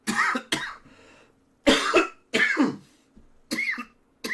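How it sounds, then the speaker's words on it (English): A person coughs repeatedly, about six harsh, chesty coughs in uneven pairs with short pauses, close to the mic. "Horrible cough I've picked up."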